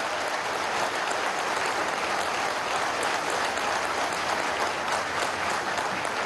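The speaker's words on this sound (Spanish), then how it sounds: "Un fuerte aplauso por ese esfuerzo," An audience at a National Police Day ceremony for new police officers applauds steadily, a dense, even wash of clapping that continues without a break for the whole stretch.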